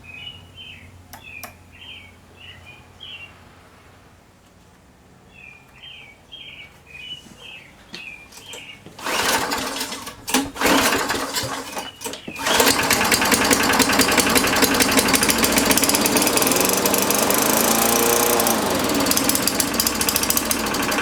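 A Yard Machines push mower engine runs loud and steady after starting, with a rough, high-revving drone. Birds chirp faintly beforehand, and a burst of mechanical noise comes in near the middle.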